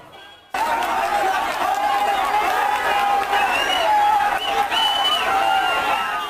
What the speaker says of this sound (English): A massive crowd around the Chief Minister's vehicle.